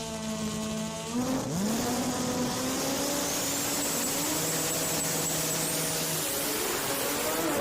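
Drag race cars at Maryland National Racing blast off the line together, loud engines roaring and climbing steadily in pitch as they accelerate away, with a harsh, continuous high-power drone that stays close and dominant throughout.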